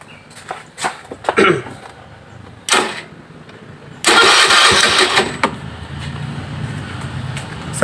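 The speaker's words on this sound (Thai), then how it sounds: "เดี๋ยวผมลองสตาร์ทรถดูนะ" A carbureted Honda Click 110 scooter with a full electrical failure is cranked: a few scattered clicks and clunks, then a loud starter whir that catches into a steady, quieter idle, with no talking.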